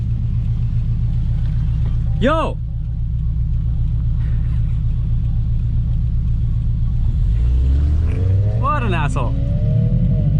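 A supercharged Subaru BRZ pulls hard along a street, its engine a steady, loud in-cabin drone that climbs in pitch toward the end as it accelerates, with a voice shouting over it.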